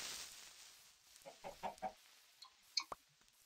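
Chickens in the video game Minecraft: a few short, quiet clucks in a sparse, irregular sequence, heard alone against near silence.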